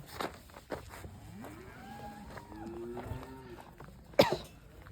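A high-yield Holstein Friesian dairy cow on a farm lets out a low, drawn-out moo at moderate distance, followed by a short sharp cough-like noise in a quiet barn.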